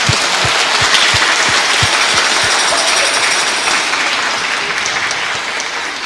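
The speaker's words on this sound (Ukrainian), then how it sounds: "Справжні українці плескають долоні дуже голосно." Children applaud loudly inside a church during a Christmas carol event, with dense, sustained clapping throughout at close range and a slight fade near the end.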